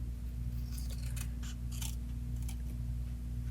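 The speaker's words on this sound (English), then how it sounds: "I'm going to use my scissors to actually cut these two sides" Scissors snip through paper for a card craft, a series of quick crisp cuts in uneven rhythm over a steady low background hum.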